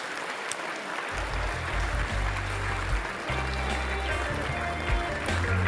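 Audience applause and cheering at a comedy roast, a steady dense wash of clapping filling the whole stretch at moderate loudness, with low rumble underneath.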